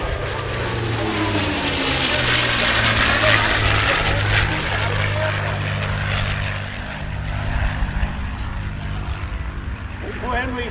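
P-51 Mustang fighters with Packard-built engines sweep past in formation at an air show, a loud droning propeller roar that rises and Doppler-shifts downward as they pass, with an announcer talking over it.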